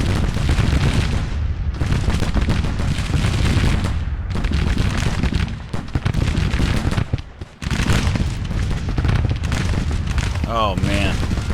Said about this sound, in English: Oh man, devastating fire on his artillery.